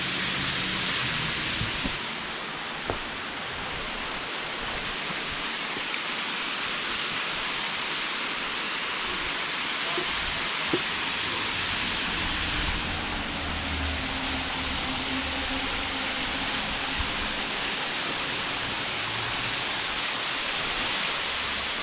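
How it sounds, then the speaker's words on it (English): Steady, loud rushing of water from waterfalls in central West Virginia, a continuous broadband roar that holds unchanged throughout with no voices over it. "there's another waterfall, more waterfall, lots of water falling"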